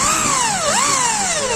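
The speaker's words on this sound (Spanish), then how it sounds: "haciendo un poco de juego con el taladro, torciéndolo" A power drill whines at high speed while boring a dowel hole, its pitch dipping and rising as the bit wobbles and is twisted in the wood, loud and close.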